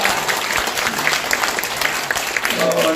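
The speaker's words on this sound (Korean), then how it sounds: "이건 정말 박수 쳐야 됩니다" A gathered audience at a political party founding speech applauds in a steady wash of clapping, moderately loud and continuous, with faint talk underneath.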